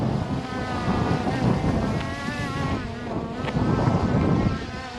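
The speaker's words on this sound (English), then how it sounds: "It's so windy, I'm losing my hat here" Strong wind buffets the microphone outdoors, a loud, continuous rushing roar with gusts rising and falling throughout, while a small camera drone flies nearby.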